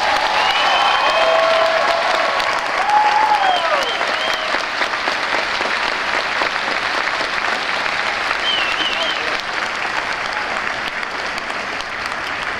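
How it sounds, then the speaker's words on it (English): Big round of applause at a Barack Obama town hall meeting in Bristol, Virginia, welcoming a congressman; dense sustained clapping from a large crowd with a few cheers and whoops, loud at first and easing slightly toward the end. "Please give a big round of applause to Congressman Rick Roberts."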